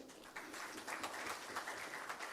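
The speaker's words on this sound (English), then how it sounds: "Can we clap for ourselves?" Audience members at an investment event in Oman clap for themselves in a room, with scattered clapping that quickly builds into steady, moderate applause.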